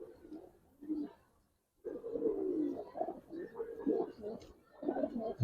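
A pair of Giribaz pigeons coos in low, throaty bursts that swell and fade in repeated phrases, close by, with a short gap of near silence midway.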